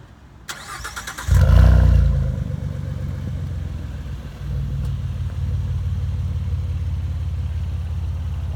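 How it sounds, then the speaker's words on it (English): A 2018 Ford Mustang convertible engine with an upgraded exhaust cranks and starts with a loud burst, then settles into a deep, steady rumbling idle from a nearby exhaust. "an upgraded exhaust that we can show off here"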